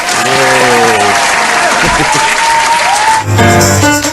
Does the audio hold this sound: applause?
yes